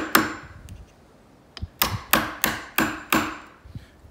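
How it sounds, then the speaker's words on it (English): A chisel being struck to deepen a door strike hole in a door frame, with a few scattered taps followed by five sharp, evenly spaced blows, close and with no talk. "Just chiseling this out a little bit more"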